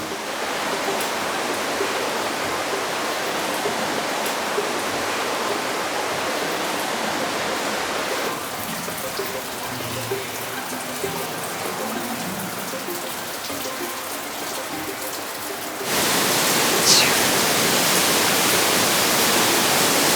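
A rain-swollen river rushes continuously during a truck fording, a loud, dense hiss of flowing water that swells louder near the end, with no voices heard.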